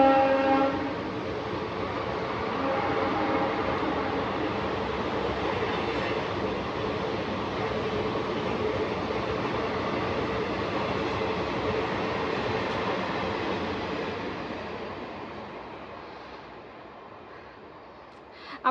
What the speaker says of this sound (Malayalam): ട്രെയിൻ പോയ ശബ്ദം ഒന്ന് കഴിയട്ടെ എന്ന് വിചാരിച്ചിട്ടാണ് കേട്ടോ.